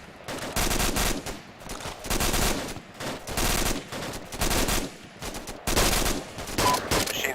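Machine gun fire in Arma 2 comes in several long, loud bursts of rapid shots separated by short gaps, close and dense, with no voices over it.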